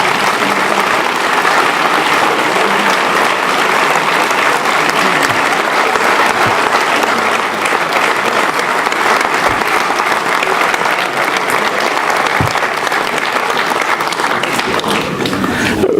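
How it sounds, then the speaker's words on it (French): A roomful of people at a 2017 New Year's greetings ceremony in Mennecy applaud prize winners in a long, loud, unbroken wave of clapping that stays even for about sixteen seconds, with a few sharper claps close by. "Vous pouvez les applaudir, elles le méritent."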